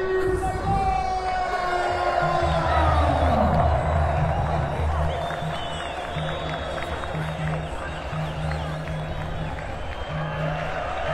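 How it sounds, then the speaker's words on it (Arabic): A large crowd applauds and cheers at the municipal stadium in Kenitra, a dense steady roar of clapping and shouting that swells early then eases slightly, with whistles and a loudspeaker tone running through it. "اخر حارس من نادي القنيطري تحت تصفيقات الجمهور"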